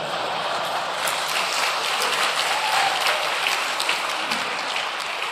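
A crowd applauds steadily throughout, a dense wash of many hands clapping at even loudness with no voices standing out.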